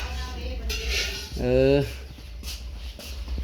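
Cooking utensils clank against a pan during stir-frying in a kitchen, a few metallic clinks heard close by while a voice speaks over them.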